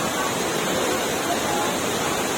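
Matas Falls waterfall in Baler, Aurora, roaring as a loud, unbroken wash of falling water heard up close and alone.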